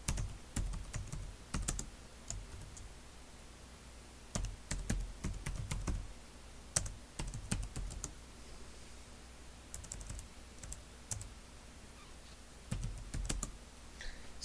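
Typing on a computer keyboard while entering a security template description on a workstation, heard as bursts of close, crisp keystrokes separated by short pauses, with no one talking.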